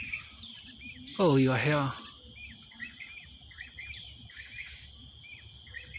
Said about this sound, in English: it seems like a cross breed between two different birds